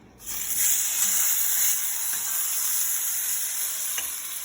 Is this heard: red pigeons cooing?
no